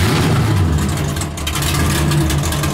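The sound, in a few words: 850hp naturally aspirated V8 Nissan S15 drift car engine revving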